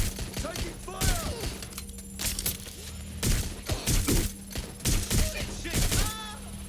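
Bursts of gunfire and heavy impacts crackle through a Watch Dogs: Legion firefight in London, loud rapid volleys in clusters, with voices shouting in the game among the shots.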